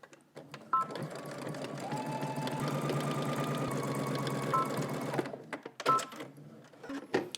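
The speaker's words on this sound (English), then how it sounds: "Then we're gonna head to the sewing machine and stitch this down using 5/8 of an inch seam allowance" A home sewing machine stitches down a 5/8 inch seam with a back stitch at the start and end, a steady rapid whirring run of several seconds, then stopping amid light handling clicks.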